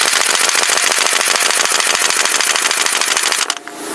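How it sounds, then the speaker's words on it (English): An air impact wrench hammering off lug nuts on a Chevy, a loud rapid rattling burst of rhythmic impacts that cuts off abruptly near the end, followed by a faint hiss. "I'll just demonstrate what it takes to get these lug nuts off."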